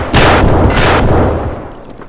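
Gunfire in a GTA roleplay game: a burst of loud, close shots that start abruptly, with a second burst about half a second later and a booming tail fading over two seconds.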